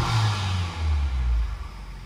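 Honda Civic Type R fitted with a PRL Motorsports inlet tube and high-volume intake revs up, a loud, deep engine roar that swells and holds, then eases off near the end of the short burst, with no talk.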